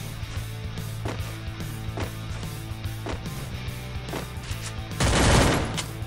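MP40 submachine gun firing in the Free Fire mobile game: a steady stream of repeated shots over a constant game hum, ending in a louder, noisy burst near the close, with no voices.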